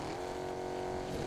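A car engine in the video game Fortnite drones steadily at a constant pitch, loud and close, with no speech.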